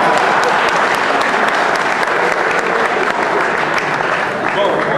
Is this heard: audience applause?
yes